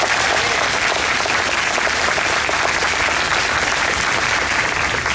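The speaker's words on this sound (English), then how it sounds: "Let's give them a round of applause." A large crowd applauds continuously at a high school commencement ceremony, a dense wash of clapping that stays loud and even throughout, with no voices standing out.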